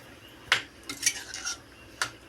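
A spoon scrapes and clinks against a metal pot of elephant foot yam curry in a few uneven stirring strokes, close and fairly quiet, with no talking.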